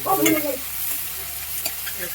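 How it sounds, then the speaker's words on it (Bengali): Sliced onions fry in oil in a pan for a Bengali fish curry, a loud hiss and crackle at first as they are stirred, then a steady, quieter sizzle close by. "পেঁয়াজটাকে এবার লাল লাল করে ভাজতে হবে পুরো লাল হয়ে গেছে সাইড দিয়ে তেল ছেড়ে এটা ভাজা হয়ে গেছে"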